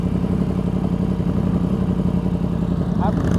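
A motorcycle engine runs at a steady, close, throbbing idle during riding practice, holding an even rumble throughout, with a voice faintly under it.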